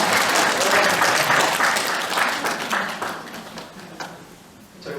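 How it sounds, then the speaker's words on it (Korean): A church congregation at a Catholic spiritual-education lecture claps together in a dense, loud burst of applause that gradually fades, with a few scattered claps lingering near the end. "박수 좀 보내주세요. 박수!"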